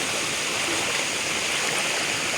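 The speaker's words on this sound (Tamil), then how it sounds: "பாருங்க எல்லாம் தண்ணி பாய்ஞ்சு கொண்டு இருக்குது" Floodwater rushes continuously and loudly across a road, a dense, steady roar like a fast stream pouring past close by.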